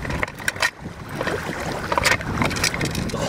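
A Yamaha outboard boat engine runs with a steady, rough broadband drone despite shell-clogged carburetor, with no talk over it.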